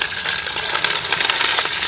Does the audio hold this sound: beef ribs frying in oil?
yes